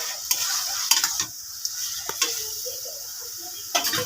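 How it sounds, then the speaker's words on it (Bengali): Shrimp stirred with taro stolons in a pan, a spoon scraping and clacking in several distinct strokes over a steady soft sizzle, close and moderately loud. "এর মধ্যে আমি অল্প করে চিংড়ি মাছ দিয়ে দেবো, ভালো করে নেড়ে নেব।"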